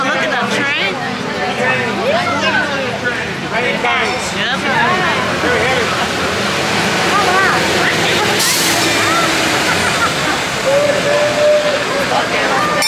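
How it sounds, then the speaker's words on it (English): A train passing through Jerusalem, Israel, near the Jewish Quarter: a steady rumble and hiss with a brief squeal, heard close by beneath busy crowd chatter and people talking. "look at that train"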